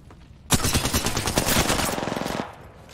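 Rapid automatic gunfire in the video game Apex Legends, one sustained burst of evenly spaced shots lasting about two seconds, loud and close, with no talking.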